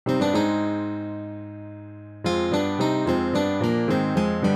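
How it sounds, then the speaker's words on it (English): Block chords move together in the same rhythm, a held chord decaying before several evenly stepped chords follow, all voices striking at once. "If all the parts in a homophonic piece are playing the same rhythms"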